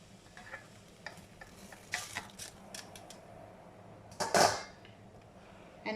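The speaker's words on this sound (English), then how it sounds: "And then you make sure you have to stir very often" Tapioca is stirred in a pot of boiling water, with a spoon scraping and sloshing in irregular strokes, louder clattering bursts near the end over a steady bubbling hiss.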